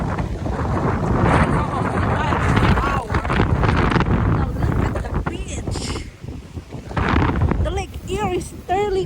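Strong west wind on a Lake Erie beach, buffeting the microphone in loud gusty roars with brief lulls, while people speak over it.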